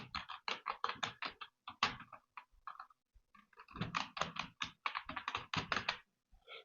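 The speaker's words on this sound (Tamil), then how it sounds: "இந்த இடத்துல போய் என் பேரை நான் டைப் பண்ணுறேன்" Rapid, close keystrokes on a computer keyboard as a name is typed, steady clusters of clicks broken by a brief pause in the middle before the tapping resumes, with no talking.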